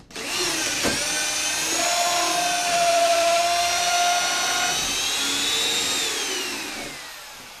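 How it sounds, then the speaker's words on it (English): Power drill boring through a 6x12 glulam beam to pass a bolt, a loud steady whine with a rising pitch that holds for several seconds and then winds down, heard alone with no talk. "Now we're going to drill through the 6x12 glue lamp to put this bolt through."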